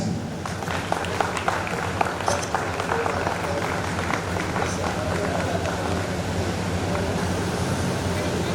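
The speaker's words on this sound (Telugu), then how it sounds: "క్లాప్స్." A crowd at a high school alumni get-together applauds steadily for several seconds, a dense even wash of clapping with no clear break, heard at moderate distance.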